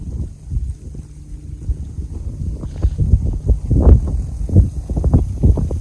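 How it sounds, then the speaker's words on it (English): Wind gusting outdoors in a quiet, peaceful spot, a steady low rumble and buffeting against the microphone that swells and surges irregularly, alone with no talking. "There's the wind."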